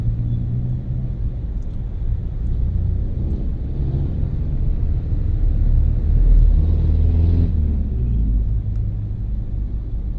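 Road traffic on the wide, congested Commonwealth Highway, heard from inside a car as a continuous low rumble of engines and tyres, steady and fairly loud with a slight swell midway, no voices.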